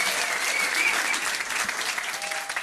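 Audience at a charity trivia quiz at Highfield Academy applauding the winners, dense steady clapping from a crowd indoors, loud and continuous throughout.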